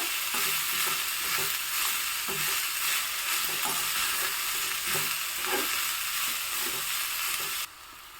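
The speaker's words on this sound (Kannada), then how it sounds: "ಇದನ್ನು ಸ್ವಲ್ಪ ಬಾಡಿಸ್ಕೊಳ್ಳೋಣ ಎಣ್ಣೆಯಲ್ಲೇ" Onions sautéing in oil in a pan, a close steady sizzle broken by repeated scraping stirs, cutting off abruptly near the end.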